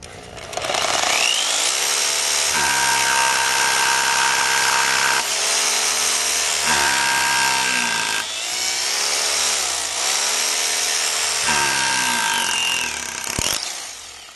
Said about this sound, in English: Pre-drill the proper size hole using the overhead drill machine.